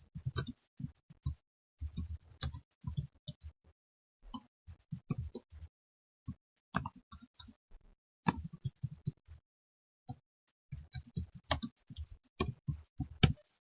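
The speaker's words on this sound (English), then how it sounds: "So I'll just type in some information." Someone types on a computer keyboard in quick clustered bursts of light clicks and taps separated by brief pauses, close-up and fairly quiet against an otherwise silent room.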